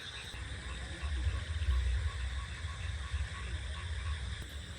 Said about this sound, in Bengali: মাত্র বৃষ্টি হয়েছে ব্যাঙের ডাক শুনুন শুধু